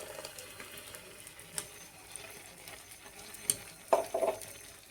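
Ground coconut, ginger and garlic fry in a pan with a soft, steady sizzle and a few louder stirring scrapes near the end.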